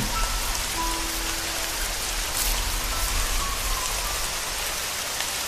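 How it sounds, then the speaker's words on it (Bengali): Heavy rain pours down in a steady, dense hiss while a gusty storm wind blows through trees, all continuous and close, with no voices. "গাছপালার মধ্যে দিয়ে শো শো করে বইতে লাগলো ঝোড়ো হাওয়া, আর বড় বড় ফোঁটায় বৃষ্টি এসে কিছুক্ষণের মধ্যেই আমাকে পুরো ভিজিয়ে দিল"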